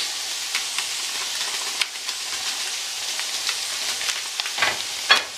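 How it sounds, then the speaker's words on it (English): Curry powder goes into a hot frying pan for Guyanese cooking, bringing a continuous bright sizzle with scattered crackles and a few sharper stirring scrapes and spits near the end. "My mom's adding in the curry powder there."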